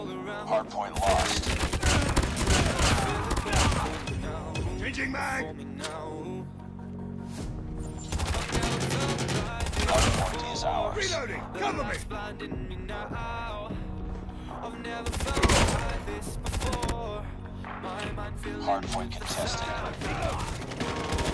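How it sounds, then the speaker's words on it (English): Rapid bursts of Pharo gunfire in the Call of Duty Mobile video game, with repeated short volleys firing loud and close over a busy game soundscape. "Even if you miss some shot of one burst, you can always kill the enemy with the second burst"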